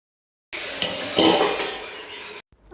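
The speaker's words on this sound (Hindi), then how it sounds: "बस इसको अच्छे से चला के ढक के पका लेंगे" Pumpkin pieces with salt and turmeric are stirred in a metal kadhai, giving a short burst of scraping and clanking spoon against pan, then a lid is set on, all without talk.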